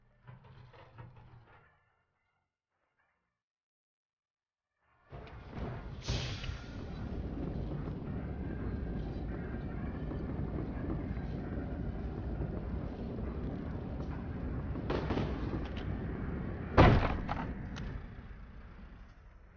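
The engine of the land-sailing vehicle in the video game Far Lone Sails starts after a short faint sound and a silent gap, then runs as a steady mechanical rumble with a few sharp bursts of noise toward the end.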